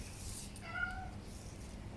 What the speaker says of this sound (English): Now my cat wants attention,